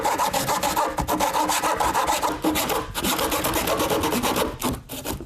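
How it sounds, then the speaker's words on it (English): A hand saw cuts through wood flooring with steady, close rasping strokes that run continuously and evenly without pause. "I prefer the hand saw because it's nice and simple, nice and quiet, doesn't create as much dust"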